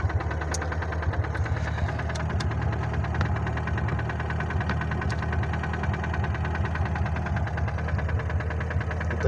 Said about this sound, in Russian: Ну вот застучал двигатель.